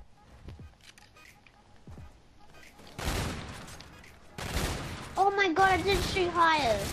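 Gunfire in a 1v1 video game match, sparse shots at first and then dense bursts of rapid fire, with a voice talking over the later shooting.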